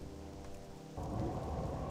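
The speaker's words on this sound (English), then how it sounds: "I kind of wish the rain would just stop at this point, because it's just kind of annoying me" Rain falls in the World of Warcraft Classic video game, a steady hiss that turns into a heavier, fuller rumble of rain or thunder halfway through.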